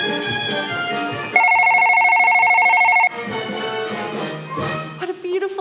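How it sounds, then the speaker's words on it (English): An old-fashioned telephone rings during a stage performance of a musical comedy, a rapid electric bell trill lasting under two seconds that cuts across singing and talking on stage. "I don't want this number ruined by another ringing telephone."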